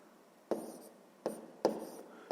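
A pen writes out a sixth-grade math solution, giving three short scratchy bursts of strokes at close range with quiet pauses between them and no talk.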